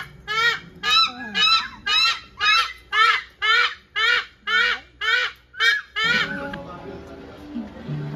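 A zoo goose honks about a dozen times in a steady, loud rhythm close by, then stops, leaving a quieter stretch of background chatter and soft noise.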